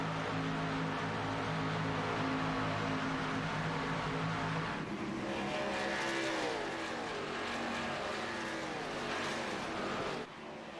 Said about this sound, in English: And now the 98 machine starting to pull away as he comes around, completes the 11th lap here tonight.